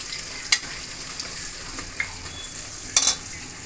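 Ginger garlic paste with green chillies sizzles in a pan for a country chicken biryani, a steady fry broken by two sharp stirring scrapes, close and without speech.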